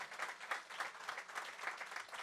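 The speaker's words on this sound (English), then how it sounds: "Give them a round of applause" At a church banquet, a small audience claps for a university string quartet, soft and fairly distant, falling into a steady rhythmic beat of roughly three or four claps per second.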